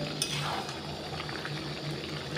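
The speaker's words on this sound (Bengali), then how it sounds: "ওটা একটু সুন্দরভাবে আমি কষে নিচ্ছি ভালো করে এটাকে কষতে হবে" Chicken scraps sautéed and stirred in a pan, giving a steady close sizzle and bubbling frying noise with soft scraping, no talk.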